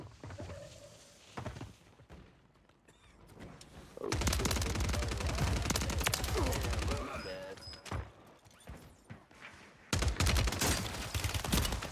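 Rapid automatic gunfire from an SMG in Call of Duty Warzone 3, with long loud sustained bursts and shorter volleys between quieter moments and footsteps, while players talk over the action.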